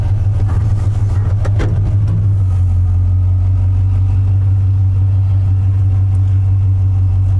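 A 1973 C10 pickup with an LS engine swap, heard from inside the cab on a new carpet and insulated interior, gives a steady, loud low drone while driving after a brief rev and a few clunks at the start.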